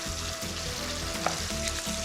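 Barbecue sauce simmering and sizzling in a pan on a gas hob, a steady fry with bursts of stirring and one sharp clack near the middle, up close with no voices.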